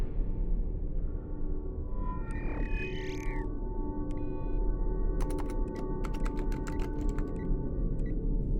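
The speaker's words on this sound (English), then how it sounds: "The reason for the humming noises is the friction of the turntable." Friction from a turntable inside a machine sets up a steady low hum under a whistling, sliding squeal, followed by a run of sharp clicking and ticking tones, all close and continuous.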